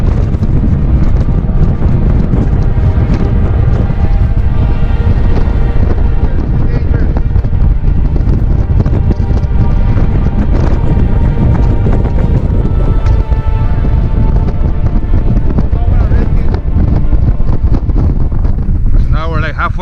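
Strong wind gusts buffet the microphone on an exposed mountain trail beside a sheltering rock, a loud, steady roar filling the whole stretch without letup.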